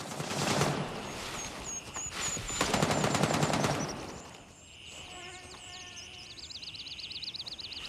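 Bursts of automatic rifle fire in the shooter game Gray Zone Warfare, loud rapid volleys near the start followed by quieter distant shots and ambient game sounds.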